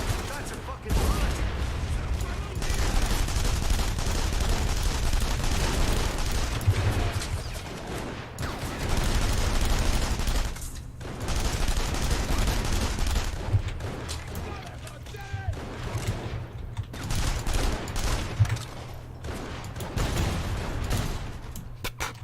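Sustained, dense gunfire from several weapons in The Saboteur, a video game, forms a loud continuous battle din of rapid shots and bursts with brief lulls, with voices talking over it.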